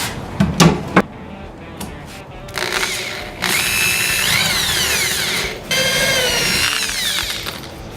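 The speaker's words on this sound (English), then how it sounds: "Now the drill got away from me a little bit." A power drill driving screws into a plastic skate rack, a few short clicks and bumps followed by long, loud, close whirring runs with a brief pause between bursts.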